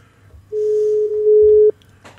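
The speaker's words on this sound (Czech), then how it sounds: "To znamená, že já ho teď volám." A single steady telephone tone sounds alone for about a second during a radio studio's call to a phone-in guest, then cuts off abruptly, followed by faint line noise.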